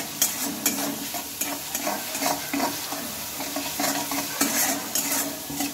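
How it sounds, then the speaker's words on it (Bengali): Raw banana and lentils are stirred with turmeric and chili powder in a frying pan, repeated scraping strokes of a utensil against the pan in an irregular rhythm over a soft, close sizzle. "সবগুলো একটু ভালোভাবে আমি মিশিয়ে নেব।"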